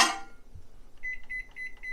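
A microwave oven is set for 25 seconds at 70% power, with a series of short electronic keypad beeps following a brief clunk as the door closes in a home kitchen.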